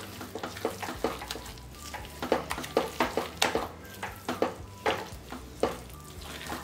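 Roasted gram flour cooked in ghee in a hot kadhai for besan barfi is stirred steadily, giving repeated close scraping strokes over a soft, continuous sizzle, with no talking.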